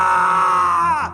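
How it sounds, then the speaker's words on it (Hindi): A single sustained scream, loud and close, wavering and then falling in pitch before cutting off, used as a sound effect in a Hindi horror story narration. "इस बिल्डिंग में फिर चीखने चिल्लाने की आवाज आई"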